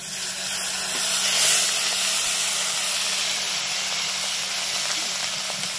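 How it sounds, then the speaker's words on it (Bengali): Black cumin and onion paste sizzle in hot oil as a steady, dense, close hiss that barely changes over several seconds, with no voices. "এবার তেলের মধ্যে দিয়ে দেবো কালো জিরে, অল্প কালো জিরে দিয়ে এবার যে পেঁয়াজ বাটাটা রেখেছিলাম সেটা দিয়ে দেবো আগে"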